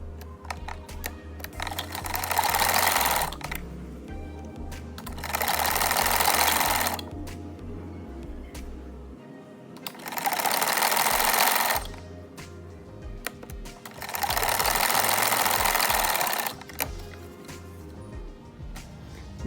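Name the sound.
sewing machine stitching the long side of a kurta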